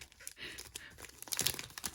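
Foil wrapper of a Pokemon Sword and Shield booster pack being torn open up close, a quick series of sharp crinkling rips and crackles over about two seconds.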